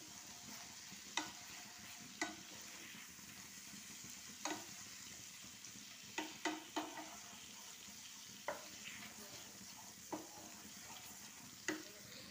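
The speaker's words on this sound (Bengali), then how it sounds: "এবার এটাকে ভালোভাবে আমি নেড়ে নিলাম" Stirring a stuffed eggplant dorma gravy with poppy seed and cashew paste, a soft steady sizzle punctuated by about ten sharp spoon knocks against the pan at irregular intervals.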